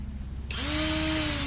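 A cordless 24-volt electric grass trimmer switches on and runs at a loud, steady high-pitched whine with a constant motor tone, alone and close.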